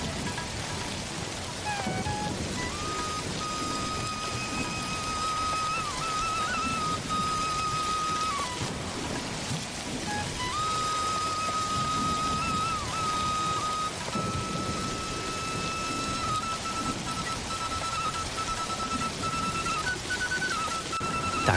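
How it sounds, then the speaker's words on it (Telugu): Heavy rain pours down in a steady, dense hiss throughout, with a thin whistling tone drifting in and out above it. "వర్షం బాగా పడుతోంది."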